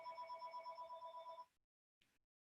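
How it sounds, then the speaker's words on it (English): A household telephone rings with a faint, steady trilling bell for about a second and a half, then stops, followed by a brief clipped ring burst, with no talking. "hopefully somebody in my household answers that phone and gets it out of the way"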